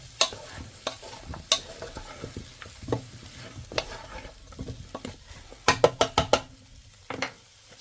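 Food frying in a pan is stirred with a utensil, giving soft continuous sizzling broken by irregular scrapes and sharp knocks against the pan, with a quick cluster of clatters near the end.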